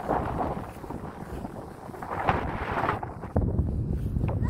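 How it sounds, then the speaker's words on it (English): Wind blows outdoors on a walk, buffeting the microphone with a continuous broadband rumble that swells and gusts, with a sharper thump of wind near the end. "whilst the wind blows."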